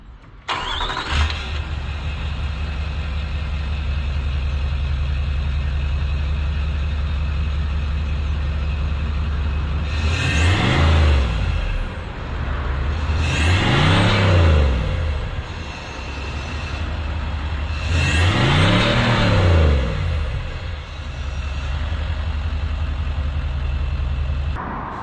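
Range Rover L322 exhaust with the original back box still fitted, idling with a steady low drone, then three distinct revs that rise and fall in turn, close and loud with no talking.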